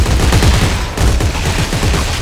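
Rapid bursts of video game gunfire in Dead Space 3, loud and continuous, with dense overlapping shots pounding through the whole stretch and no voices.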